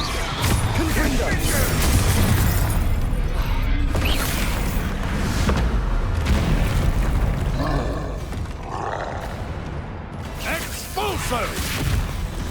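Confringo fire spell blasts in Hogwarts Legacy combat, a burst of roaring, crackling magic amid dense battle effects, grunts and creaking mechanisms, loud and continuous throughout.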